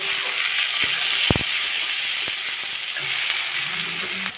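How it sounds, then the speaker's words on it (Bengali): Chopped onions fry in hot oil for a fish curry, a steady close sizzle and hiss with a few sharp clinks of a utensil stirring the pan, no voices. "পেঁয়াজটা একটু ভাজা ভাজা হয়ে গেছে"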